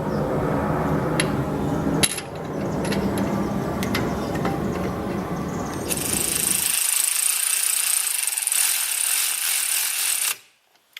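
A ratchet driving the 10mm hex caliper bolts on a Dodge Challenger Baer brake upgrade gives steady close clicking and mechanical rattling, a sharper metallic tone joining midway, then it cuts off abruptly near the end.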